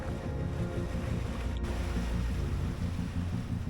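Steady wind rushing past a sailboat under sail alone, with low rumbling water and hull noise, a continuous blustery roar throughout with no voices.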